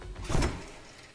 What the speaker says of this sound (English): That's probably the coolest door I've ever seen in my life.